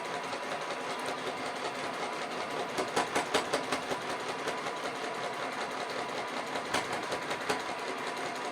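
A sewing machine runs steadily while sewing a fabric piece down, a fast, even mechanical whir with light rhythmic ticking, close by and moderately quiet, with no talking.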